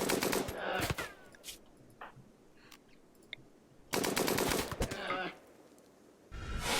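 Automatic gunfire from the RimWorld video game rattles out in loud rapid bursts, one at the start, a longer one midway and another at the end, separated by quieter stretches of game sound.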